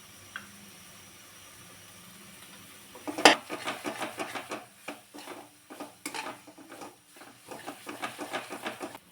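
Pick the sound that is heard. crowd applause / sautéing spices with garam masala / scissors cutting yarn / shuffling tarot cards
sautéing spices with garam masala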